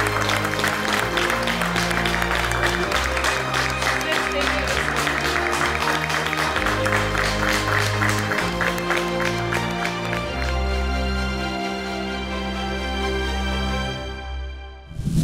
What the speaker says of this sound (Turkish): Alkışlarla uğurluyorum